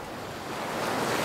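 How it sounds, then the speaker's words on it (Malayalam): Small sea waves wash ashore at Juhu Beach in Mumbai, a steady broadband rush of surf that swells slightly louder toward the end, with some wind noise and no voices. "അതായത് ചെറിയ തിരമാലകൾ, അതങ്ങോട്ട് നോക്കി അത് കാണുന്നത് ജുഹു ബീച്ചാണ്"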